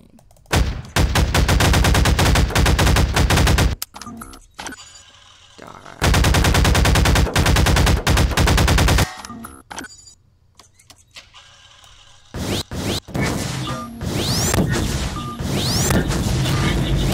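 Automatic weapon fire in a Garry's Mod FNAF roleplay game: long loud strings of rapid shots broken by short pauses, with some quieter mechanical clatter between bursts.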